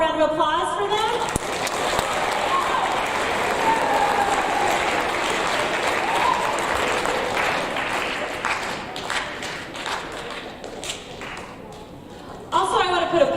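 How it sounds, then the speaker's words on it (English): Audience at a 7th grade awards ceremony applauding the award winners, a loud, sustained wash of clapping in a large room with a few thuds and taps mixed in, close and continuous throughout. "All right, one more round of applause for them."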